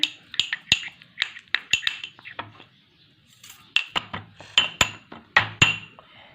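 Herbal toothpaste paste being stirred with apple cider vinegar in a bowl, giving a run of sharp clinks and scrapes of a spoon against the bowl in irregular bursts, with a short pause midway.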